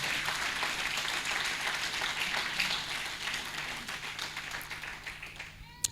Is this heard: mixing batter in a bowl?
no